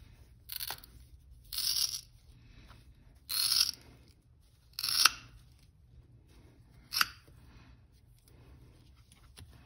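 Diagonal cutters snip through rope ends: five separate sharp crunching cuts spaced a second or two apart, close up against quiet background hum.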